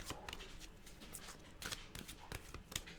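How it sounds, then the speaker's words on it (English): Short crisp riffling and slapping snaps of a deck of playing cards being cut and handled up close, quiet and irregular. "so we'll cut the deck"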